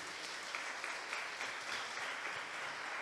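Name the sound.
congregation applauding in church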